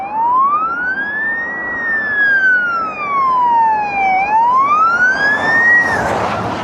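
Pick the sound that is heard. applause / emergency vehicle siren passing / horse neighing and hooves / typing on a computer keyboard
emergency vehicle siren passing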